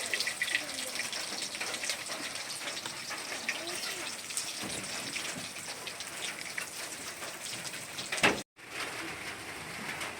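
Steady rain falling outdoors near a cooking stove, a dense, even hiss of drops that holds throughout and cuts out briefly near the end before resuming.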